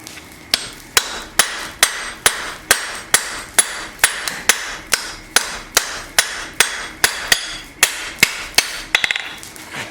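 A blacksmith hammering a forged knife to thin the blade, with about twenty loud, even metallic strikes in a steady rhythm, close by and uninterrupted.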